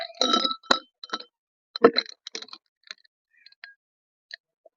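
Ice cubes clink and rattle into a tall glass, a cluster of bright knocks at first, then scattered lighter ticks as they settle.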